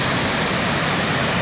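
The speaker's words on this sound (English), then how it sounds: "and the Ban Gioc Waterfall" Ban Gioc Waterfall in Cao Bang, on the border between Vietnam and China, sends up a steady, dense roar of rushing water. The sound is loud and unbroken throughout, with no voices.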